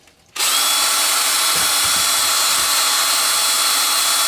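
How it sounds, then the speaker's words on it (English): A power drill whirs up abruptly after a brief quiet start and runs at a steady high-pitched whine, mixing two-part casting resin in a cup, loud and close, with faint knocks of the bit against the cup. "I'm going to speed up my mixing time with a drill."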